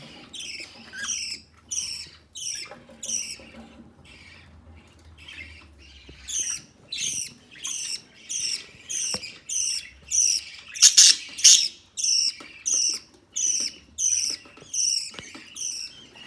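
Rainbow budgerigars in a coop give a run of repeated bright squawking chirps, close and steady in short rhythmic bursts, with quieter scattered calls at the start.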